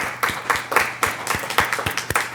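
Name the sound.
audience applause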